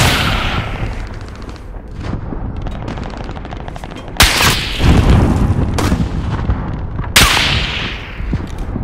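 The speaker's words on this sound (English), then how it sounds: "Taking shots over here!" Gunfire in a shooter video game, loud and close: rapid bursts and single heavy shots crack out repeatedly over continuous battle noise.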